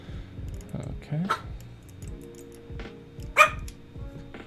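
A puppy gives two short, close barks a couple of seconds apart, over the soft clicking of computer keyboard typing.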